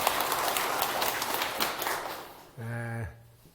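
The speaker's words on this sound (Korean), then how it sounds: "박수 한번 주세요" A short burst of applause from an audience at a Korean talk program, a dense patter of clapping lasting a couple of seconds before a voice speaks.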